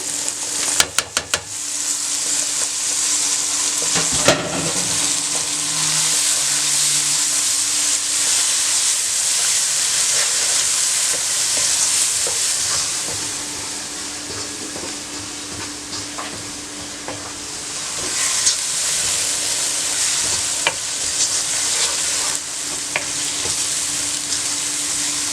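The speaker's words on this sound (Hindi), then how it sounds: "दोबारा आपने चंद सेकंड के लिए इसको फ्राई करना है और अब हमने इसमें टमाटर डाल देने हैं" Dal karahi with tomatoes frying in a pan, a steady loud sizzle running the whole time with a few clinks of a utensil and brief stirring noises, and no voices.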